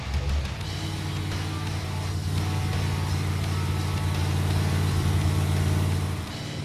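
A Chevrolet Impala's engine idles steadily and close by, a strong low rumble holding an even rhythm from start to finish with no talking over it.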